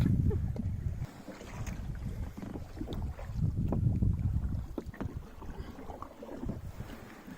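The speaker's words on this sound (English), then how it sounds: "It's a coracle ride." A coracle ride on Manavannur Lake near Kodaikanal, with steady, close wind buffeting the microphone over soft splashing and water movement, continuous and fairly loud throughout.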